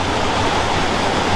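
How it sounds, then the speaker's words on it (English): Steady rush of water flowing fast through a stream or outflow beside a railway line in the Forest of Dean, a continuous broadband roar that stays loud and even throughout with no voices. "there's a lot of water still flowing"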